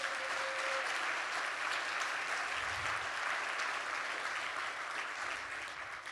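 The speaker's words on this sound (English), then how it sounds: "we can give a round of applause for Melinda" An audience at a mission network session gives a sustained round of applause, a dense, even wash of clapping held at steady volume from start to finish, easing slightly at the very end.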